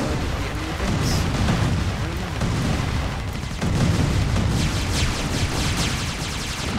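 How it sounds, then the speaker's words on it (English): An enemy base blowing up in the game AirMech: dense, loud rumbling booms and crackling blasts that roll on continuously and noisily for several seconds. "I think we actually destroyed the enemy base"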